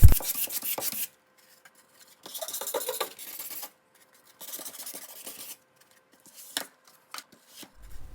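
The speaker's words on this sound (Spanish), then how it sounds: "voy a pasarle un poco la lija por los laterales para que no queden astillas" Sandpaper rubs along the cut edges of a wooden board in several short raspy strokes, close and fairly loud, separated by brief pauses of near silence.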